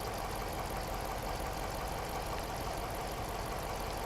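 An Audi engine idles with a misfire, a steady close mechanical drone with slight uneven pulsing and no voices.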